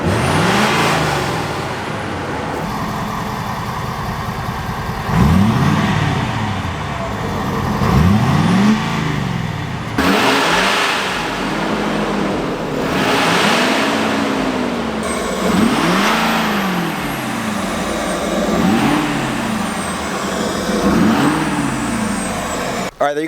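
A Ford F250 Super Duty fitted with a Banks intake and exhaust revs loudly and repeatedly close up, each throttle blip rising and falling in a steady series of deep surges.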